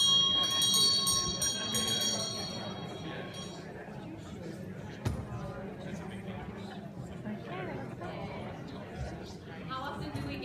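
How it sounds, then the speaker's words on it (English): A hand bell rings bright and clear several times at the start, then fades as a room full of people keeps chattering in a busy background babble. "when I'd like you to finish, I'll just ring the bell"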